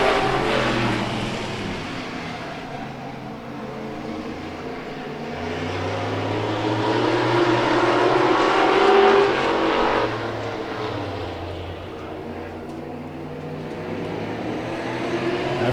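Race cars accelerate around a track after the green flag at a Hobbyfest feature event, a loud rising roar of several engines swelling to a peak as the pack sweeps past, then fading and building again.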